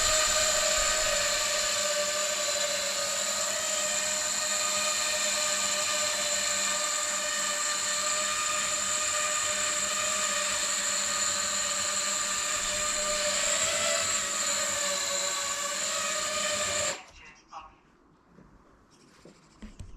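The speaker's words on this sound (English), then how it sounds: "The drone seems to fly okay overall, but the motors sound a bit rough" A 3D printed 5-inch FPV quadcopter flies with its motors sounding rough, giving a steady loud whine with tonal harmonics that holds for about seventeen seconds and then cuts off abruptly.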